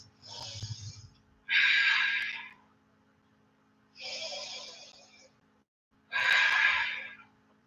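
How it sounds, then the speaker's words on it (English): Deep, slow yoga breaths taken during a live shoulders and wrist class, with long loud airy inhales and exhales in regular alternation and short quiet pauses between them, close to the microphone. "Three deep breaths."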